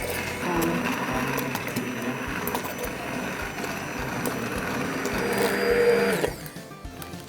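A blender purées cooked fava beans into a smooth cream, its motor whirring loudly and steadily at close range before cutting off near the end.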